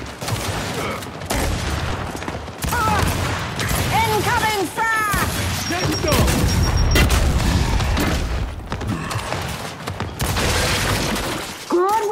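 Dense gunfire from a Gears 5 ranked online match, with continuous loud shots and crashing impacts and a few whining electronic tones, all packed into an unbroken, heavy wall of combat noise.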